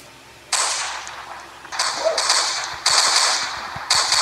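Bursts of rapid gunfire in the Roblox game Brookhaven RP crack loudly in several separate volleys, each lasting about a second, with steady background noise between them.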